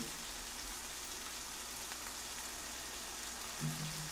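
Soft, steady cartoon rainfall patters on surfaces, a faint even hiss throughout with no voices.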